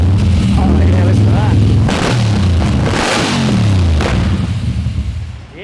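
Big block 1957 Chevy engine revving hard, deep rumbling throttle blips rising and falling several times, loud and close with sharp pops.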